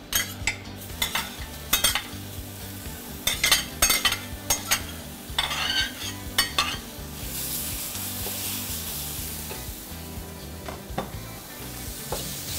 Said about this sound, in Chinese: 然后把锅烧热以后， 我们就把刚才已经搅拌好的这个阿三鱼的这个香料放到锅当中。